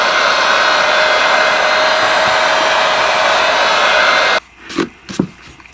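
A hair dryer blows steadily and loudly on old paint on an RCA Nipper dog figure being restored, a constant close whoosh that cuts off near the end, followed by a few faint scraping clicks.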